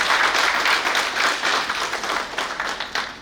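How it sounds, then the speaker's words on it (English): Conference audience clapping for a team of engineers at an international event, a steady, moderately loud round of applause lasting a few seconds without talk. "I would like all to clap for a wonderful team of engineers"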